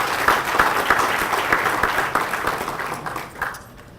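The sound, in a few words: audience applause for sponsors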